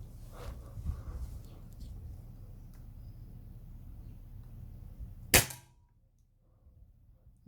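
A single sharp air rifle shot firing an H&N Baracuda pellet at a target, a loud crack standing out from steady low background noise and followed by near silence.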